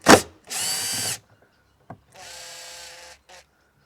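Power tool driving out T30 bolts from a Jaguar F-Type spoiler, two short whirring bursts close by separated by a click and pause.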